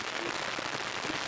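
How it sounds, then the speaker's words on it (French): Rain beginning to fall outside a house beside a covered doorway during home repair work, a dense steady patter of drops across the whole moment. "c'est juste à ce moment-là qu'il commence à pleuvoir"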